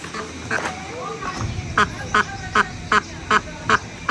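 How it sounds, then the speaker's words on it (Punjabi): Hens in a poultry shed in Punjab give strained, repeated calls in summer heat, about eight short squawks in an even rhythm, fairly close, over a low background murmur. "ਇਹ ਆਵਾਜ਼ ਹੈ ਜੀ ਬਾਈ ਮੁਰਗੀਆਂ ਨੂੰ, ਇਹ ਅਫਰੀਆ ਪਈਆ ਵਾ"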